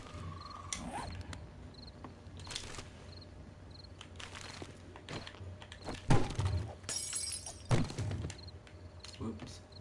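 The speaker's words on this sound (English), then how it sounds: "I'll stop smashing out those windows." Glass windows being smashed in the video game 7 Days to Die: several sharp shattering crashes and clinks scattered over a steady game ambience, with faint game background noise throughout.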